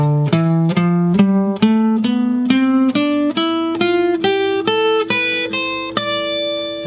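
An electric guitar plays the A natural minor scale in D position, fifteen or so evenly spaced single notes stepping steadily upward, clear and close with ringing sustain and no voices.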